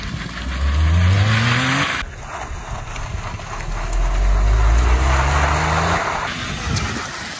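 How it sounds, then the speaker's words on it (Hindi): Modified Maruti Wagon R doing a reverse drift, engine revving loud and close in two rising surges with a broad rough roar and hiss of tires and wind between, no talking. "रिवर्स वाली ड्रिफ्ट मारते हैं ठीक है, अब देखना तुम"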